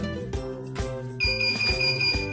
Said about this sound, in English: Now I'm going to use a motion, an acceleration to make the buzzer beep.